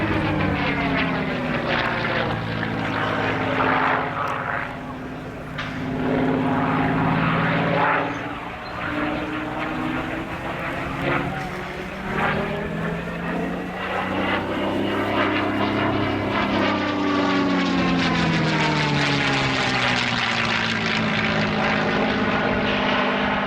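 An early Mustang airframe, a propeller warbird, flies a loop along the display line at an air show, its loud engine drone rising and falling steadily with no talk.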